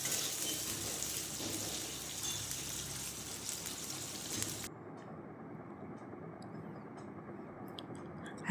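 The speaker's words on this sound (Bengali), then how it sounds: "এবার কড়াইতে দিয়ে দিলাম হচ্ছে ডুমো ডুমো করে কেটে রাখা আলুগুলোকেও হচ্ছে লাল লাল করে ভেজে নেব" Diced potatoes sizzle in hot oil in a wok, a steady dense crackle that cuts off halfway to a quieter, duller frying hiss with scattered light pops; no talk.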